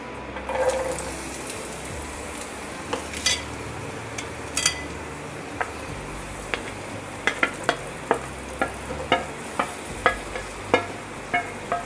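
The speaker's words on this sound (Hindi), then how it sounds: "इसे हमें जब तक फ्राई करना है जब तक ये हल्के हल्के गोल्डन ब्राउन नहीं हो जाते" Roughly chopped medium onion frying in hot oil in a pan over a low-to-medium flame, a steady close sizzle with a series of sharp stirring scrapes and pops growing more frequent toward the end.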